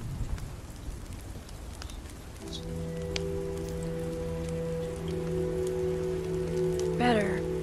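Steady rain falls in The Walking Dead Season 2 game, a dense hiss that swells partway through as sustained tonal music enters beneath it, with a brief rising swoosh near the end.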